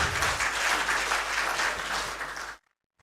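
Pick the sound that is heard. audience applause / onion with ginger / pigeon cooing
audience applause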